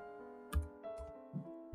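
An Nmap command being typed on a computer keyboard: a few soft, separate key taps spread over a couple of seconds, close but quiet over a steady electronic hum.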